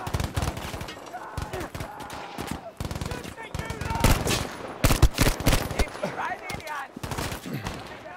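Rapid automatic gunfire in Battlefield V co-op, with dense bursts of shots in quick succession and short pauses between volleys, loud and close, while players talk over it.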